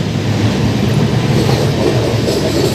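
The Madgaon AC Double Decker Express runs between Ratnagiri and Thane, heard as a loud, continuous rumble with a steady clickety-clack of wheels on rails.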